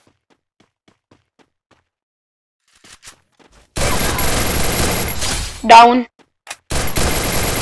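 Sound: gunfire in a shooting video game

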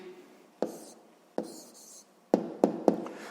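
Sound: pen writing the answer in a maths exercise

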